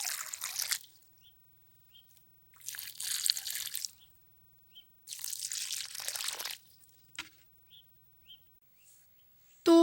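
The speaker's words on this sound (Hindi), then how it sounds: "तो ये है टमाटर, इनकी सिंचाई कर रही हूँ मैं।" Water from a hose or pouring vessel splashes onto young, freshly planted tomato plants in a kitchen garden, in three bursts of several seconds with quiet gaps, faint birds and a clank at the end.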